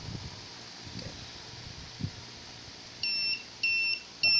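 Three short electronic beeps from a smart biometric vault prototype signal the system is ready, sounding in a steady sequence, evenly spaced and clear, following a few soft rustles and taps.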